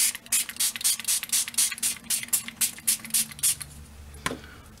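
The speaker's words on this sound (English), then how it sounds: "Let's just try how that works with sprays." Spray paint hisses over paper stencils in a rapid series of about a dozen short bursts, close and fairly loud, with a brief pause near the end.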